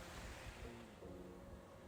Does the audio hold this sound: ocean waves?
yes